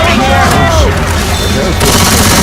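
Loud, continuous gunfire in a video game, with rapid shots layered densely across the whole short stretch and voices mixed in.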